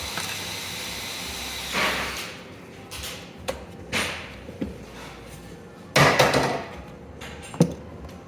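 Sharp metallic knocks from hammering a shock bolt out of a Polaris Classic 500 twin snowmobile suspension, about five spaced impacts of varying loudness over a quiet shop background.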